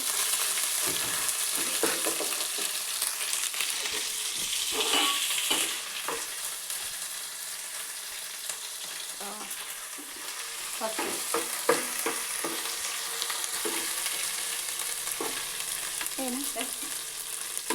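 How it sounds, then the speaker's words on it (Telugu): Ginger stirred into a sizzling pan for a fish curry, with a steady hiss of frying under scattered scrapes and taps of a spoon against the pan. "నెక్స్ట్ అల్లం వేసి ఇలా కలుపుకోవాలి."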